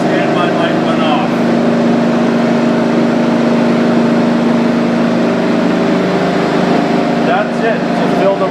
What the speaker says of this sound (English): our compressor automatically kicked on